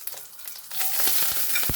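Onions hit hot oil already crackling with curry leaves for a Goan pomfret curry, a sudden rush of loud, dense sizzling that swells and stays steady, with small pops and stirring scrapes and nobody talking.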